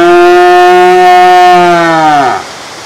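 A man gives one long, loud, close moo in imitation of a cow, holding it steady before the pitch drops and trails off at the end.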